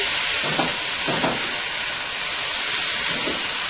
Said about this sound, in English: I'm going to toss this around on high heat. You want to cook your shrimp on high heat.